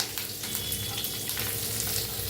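Cumin, asafoetida and curry leaves hit hot oil already crackling with mustard seeds, producing a dense, continuous, loud spitting sizzle with fine popping texture throughout and no voices.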